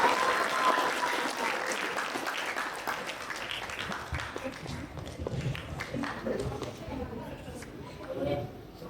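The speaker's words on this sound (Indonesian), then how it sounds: "Boleh tepuk tangan?" Audience applause at a student gala meet-and-greet event, a sustained crowd clapping that carries on for several seconds at moderate distance, with talk mixed underneath.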